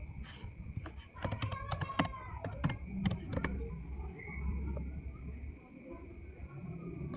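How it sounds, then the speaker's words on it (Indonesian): Typing on a computer keyboard while configuring a DHCP IP address in a networking lab, a burst of quick key clicks with a clacking rhythm under a steady electronic hum, then quieter. "Kita ketikkan IP DHCP."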